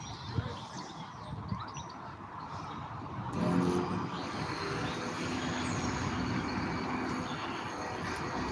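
HST train arriving at Pontefract Monkhill station: a low rumble that swells from fairly quiet to a steady, heavier roll of wheels and engine, mid-distance, with outdoor ambience and faint background noise.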